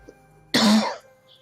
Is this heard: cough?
yes